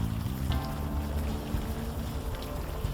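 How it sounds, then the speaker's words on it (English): Steady rain falls in the video game Unavowed, a constant soft hiss that fills the scene, with low sustained tones humming beneath it and no voices. "Still raining."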